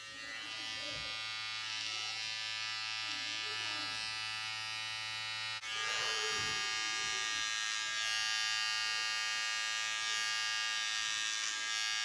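Electric hair clippers cutting a short blonde buzzcut at home, a steady close electric buzz that runs on throughout, with a brief shift in pitch partway as the blade works through the hair.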